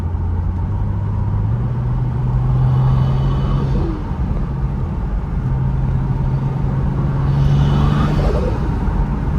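A BMW 135i with a DCT gearbox and hybrid turbo drones loudly from inside the cabin while driving, its engine tone rising through two long pulls with a dip between them.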